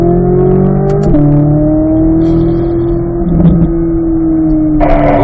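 A race car circles a track on a lap, its engine droning loud and steady from inside with a pitch that drops and holds, and a brief shift blip near the end.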